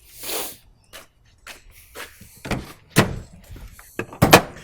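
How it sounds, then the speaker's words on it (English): The bonnet of a budget Barra-engined Holden project car is opened with a series of separate clunks, latch clicks and metallic thumps that grow louder toward the end. "Let's pop the hood."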